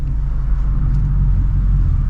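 A Shelby Mustang S550 reversing slowly, heard as a loud, steady low rumble of the idling engine and road noise, with no revving.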